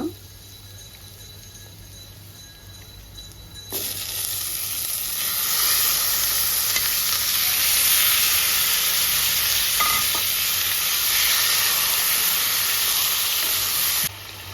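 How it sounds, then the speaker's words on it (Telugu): Chicken dropped into a pan of frying ginger garlic paste sets off a loud, steady sizzle that jumps up suddenly and holds for about ten seconds before cutting back down, close and alone with no talking. "అల్లం వెల్లుల్లి పేస్ట్ కూడా ఫ్రై అయింది ఇప్పుడు చికెన్ వేసుకుంటున్నా"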